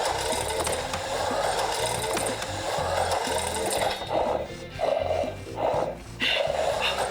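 A Robosen Grimlock Transformer robot whirs through squats, its servo motors buzzing in a busy stretch and then in short separate bursts with brief pauses between, close and clear.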